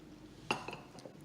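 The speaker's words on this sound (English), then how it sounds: "I'm just gonna drink some coffee" A coffee mug gives one sharp clink near the middle, followed by a couple of faint, softer knocks in a quiet room with no talking.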